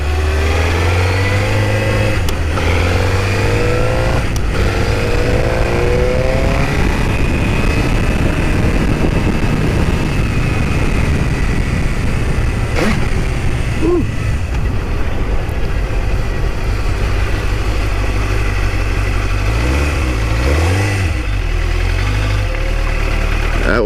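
A motorcycle ridden after a long break, its engine droning steadily and loudly throughout, with rises and falls in revs as it accelerates and eases off, close to the rider with constant wind and road noise.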